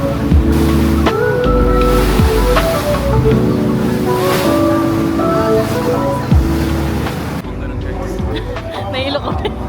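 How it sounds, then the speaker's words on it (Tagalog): Ocean waves slosh and crash around a boat crossing near Bangkok, with a steady wash of water and wind throughout and people talking over it. "Grabe yung alon."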